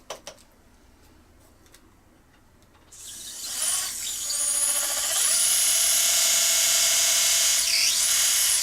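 A high-pitched dental implant drill starts after a few quiet seconds and whines steadily, its pitch dipping briefly near the end.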